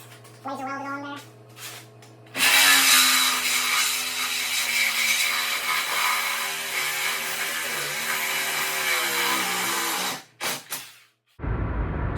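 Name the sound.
Milwaukee one-handed Sawzall reciprocating saw cutting aluminum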